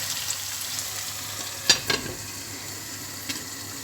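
Potatoes and egg fry in a pan for a breakfast dish: a steady, fairly quiet sizzle runs throughout, with a couple of brief scraping stirs near the middle and another light clink toward the end.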